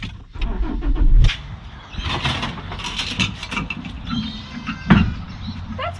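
A Y62 pickup truck's engine cranks and catches, followed by a rumbling idle with mechanical clunks and a door-like slide, heard close up with no talk.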